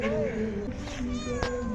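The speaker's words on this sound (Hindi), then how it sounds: "और यहाँ पे बिल्लियाँ फिर रही हैं यार।" Street cats meow on a street in Isfahan, Iran, giving several rising and falling cries close by in quick succession over a brief stretch.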